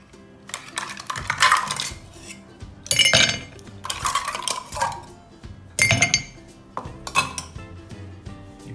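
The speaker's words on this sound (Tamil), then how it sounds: "ஐஸ் கியூப் ஆட் பண்ணிக்குவோம்." Ice cubes are dropped into a glass while making a ginger mint lemon soda, giving several sharp clinking bursts with quieter gaps between them.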